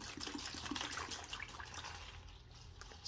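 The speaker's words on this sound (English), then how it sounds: "We're gonna go ahead and pour some into this container I got here." Evapo-Rust rust remover liquid is poured from a bottle into a container in a home kitchen, giving a soft, steady trickle that is faint and close, with no voices.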